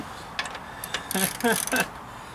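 A half-inch drive socket wrench ratchet fitted with a 17 mm socket, used during an oil change and service on a 110TLB, gives a few short, close clicking bursts amid quiet handling noise.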